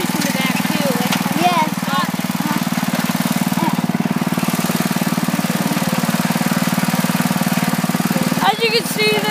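A small 5 hp tractor engine runs steadily while driving with a home-made trailer, a continuous close, loud drone with rhythmic chugging, and a voice talks over it.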